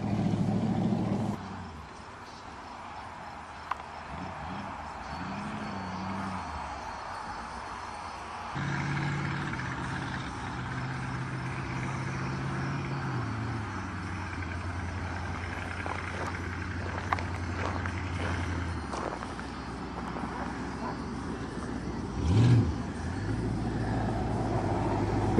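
A large American car engine rumbles and idles at low pitch for a long stretch, with a few revs and shifts in tone along the way.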